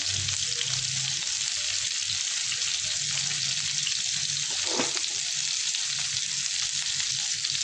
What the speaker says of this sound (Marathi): तर बघा सगळं मी पनीर असं मस्त परतून घेतलंय.